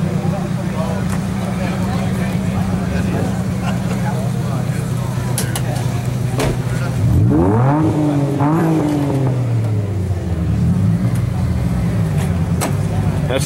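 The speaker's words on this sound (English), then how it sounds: "That's a six-cylinder. Yeah, V6. One of the first VTECs that they came out with." A 1992 Honda NSX's mid-mounted V6 VTEC engine running close by, a steady low rumble that briefly swells with a couple of revs partway through.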